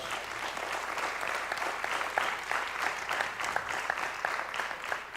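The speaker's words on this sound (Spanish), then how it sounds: "Pido un aplauso para los jurados." An audience at an awards ceremony claps steadily for several seconds, a dense patter of many hands at moderate volume.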